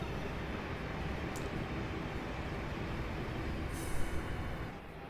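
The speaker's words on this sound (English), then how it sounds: "Okay, we're about to pass another train." A Class 350 electric train passes another in a Train Simulator game, a steady broad roar of wheels and rushing air that swells briefly near the end before easing off.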